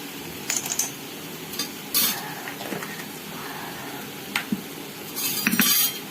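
Spicy chicken ghee roast being stirred in a pan, a spoon clinking and scraping against the metal in scattered bursts with a faint sizzle beneath, close and fairly quiet with no talking.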